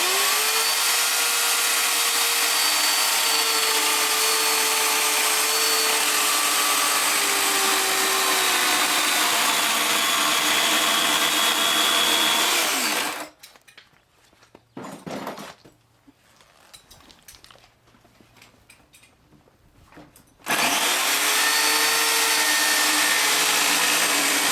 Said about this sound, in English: use, on this case, an electric chainsaw, or we also use the gas chainsaws